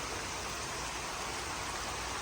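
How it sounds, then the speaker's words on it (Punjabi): Steady rain falls with an even, dense hiss of drops that stays unbroken for the whole short stretch, with no voices. "ਲੋ ਜੀ ਅੱਧਾ ਘੰਟਾ ਹੋ ਗਿਆ ਪੈਂਦੇ ਨੂੰ ਮੀਂਹ"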